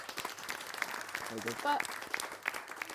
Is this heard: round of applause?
yes